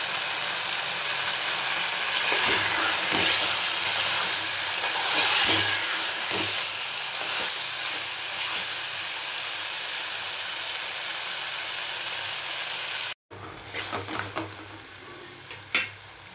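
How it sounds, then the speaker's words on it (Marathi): Masala with yogurt frying and being stirred in oil for Hyderabadi mutton dum biryani, a steady soft sizzle with occasional scraping of the spoon, then a brief break and a few louder clinks. "मसाला छान आपल्याला तेल निघेपर्यंत परतून घ्यायचं."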